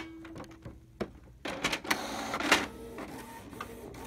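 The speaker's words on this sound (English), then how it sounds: "we are ready to feed this pack of BCH papers through the printer" A Canon printer pulls in paper with a few soft clicks, then runs into a louder whirring, grinding print pass with mechanical rattles, heard up close with no talking.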